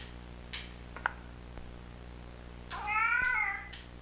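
A cat meows in the video game Kentucky Route Zero, a short, fairly loud wavering cry near the end after a few faint clicks and chirps, with no talk.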